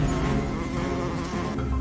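Bees buzz loudly and continuously in an animated fairy tale, a dense close droning hum with no voices over it.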